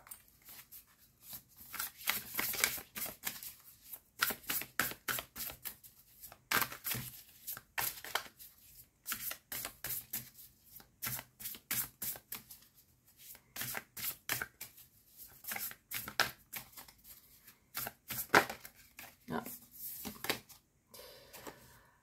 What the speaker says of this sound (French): j'ai envie de tirer les cartes de l'oracle des 7 énergies